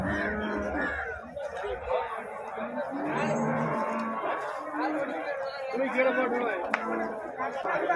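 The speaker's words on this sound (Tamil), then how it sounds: "നല്ല ഹെവി സൈസ് പശുക്കളാണ് കേട്ടോ" Large cows at a cattle market in Erode low and moo amid a busy crowd, with people chattering and talking nearby throughout.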